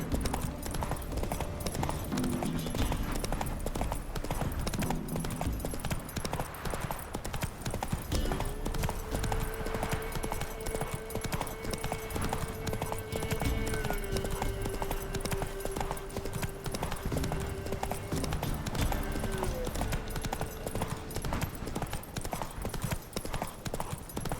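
Horse hooves clip-clop steadily in The Witcher 3 as a mount travels along at a steady pace, continuous and fairly close under game music and ambience, with a brief spoken line.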